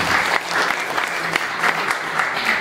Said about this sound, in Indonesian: Tepuk tangan dulu untuk dua paslon ini.